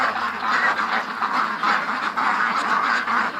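Several ducks quacking steadily and fairly close, a dense overlapping chorus of calls with no talking.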